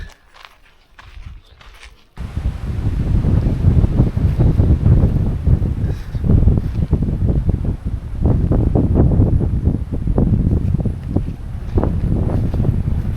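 Strong wind buffets the microphone in loud, gusting rushes at Lockhart State Park in Texas, continuous after a quiet opening.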